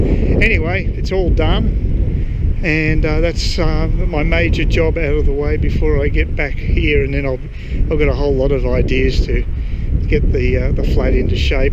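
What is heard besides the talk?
wind noise on microphone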